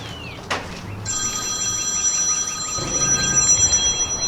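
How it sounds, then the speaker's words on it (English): A telephone rings in a home garage during rusty Jeep XJ front-end axle work, a bright warbling electronic ring that starts after a sharp metallic clank and repeats steadily for a few seconds over low background noise. "Phone's ringing."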